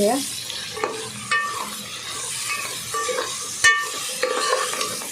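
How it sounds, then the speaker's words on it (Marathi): Tomatoes and homemade masala are being stirred in a frying pan for chicken dum biryani. There is a steady sizzle with repeated scraping strokes and light clinks of the utensil against the pan, heard close and alone without talk. "आता आपण हे मिक्स करून घ्या"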